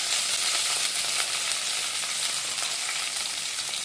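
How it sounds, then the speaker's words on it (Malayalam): Green chilies and curry leaves sauté in hot coconut oil in a pan, giving a loud, dense, continuous sizzle close by that stays steady throughout, with no voices. "വേപ്പിലയും കൂടി നമ്മളൊന്ന് വഴറ്റിയെടുക്കാം"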